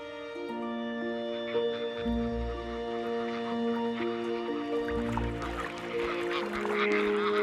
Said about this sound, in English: Migrants like grey-lag geese fly to their winter ranges.